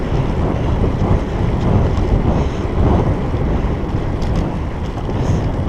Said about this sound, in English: There's still wind swirling around us.